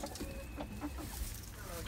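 Backyard chickens cluck in short, scattered bursts close by, a few soft throaty calls over a low outdoor background.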